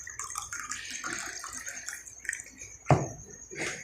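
Water pours and splashes steadily into a container for a few seconds, faint and close, with a brief louder knock near the end.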